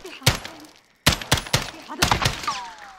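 Several bursts of sharp gunshots crack in quick clusters with short pauses between, followed by a ricochet-like whine, in the video game Call of Duty: Modern Warfare.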